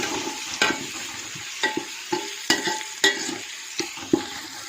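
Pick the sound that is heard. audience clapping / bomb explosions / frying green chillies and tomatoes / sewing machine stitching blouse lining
frying green chillies and tomatoes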